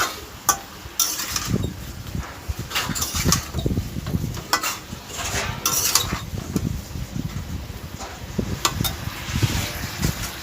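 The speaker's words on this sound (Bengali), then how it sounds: "আমি ঢাকনা তুলে নিয়েছি তুলে নিয়ে আমি আরেকটু নাড়াচাড়া করে নিলাম" A spoon stirring a pumpkin, Malabar spinach and shrimp curry in a pot, with repeated close scraping and clinking strokes over a soft, steady background hiss.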